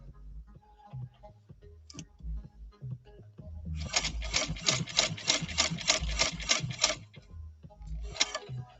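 A 170th Anniversary sewing machine stitches denim in a steady fast run of needle clatter lasting a few seconds, followed by a shorter burst, with quiet handling noises and soft movement around it.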